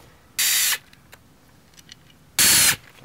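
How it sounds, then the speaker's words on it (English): Two short bursts of ratchet clicking on a Honda Rebel as clutch cover bolts are loosened evenly, each burst under a second, fairly loud and close with quiet gaps and faint clinks between. "Remove two diagonal bolts and the remaining two, you just loosen them evenly, little by little, to release the spring tensions."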